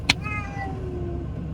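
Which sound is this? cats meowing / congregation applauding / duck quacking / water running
cats meowing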